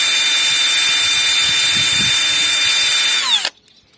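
A small power drill with a 1 mm bit bores a hole in an old flashlight housing, a loud high-pitched whine held steady for over three seconds before the motor winds down and stops abruptly.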